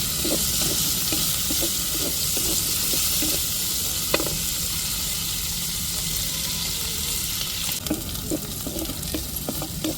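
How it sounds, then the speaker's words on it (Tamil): Small shallots sautéing in a pan for a spiced goat spleen fry, a constant loud sizzle with regular rhythmic spatula scrapes throughout and no talking. "வெங்காயம் நல்லா வதங்கட்டுங்க வெங்காயம்"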